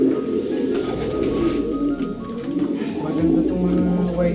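Pigeons coo repeatedly in soft, low, rolling phrases close by, overlapping one another with a few faint chirps and light background noise and no talking.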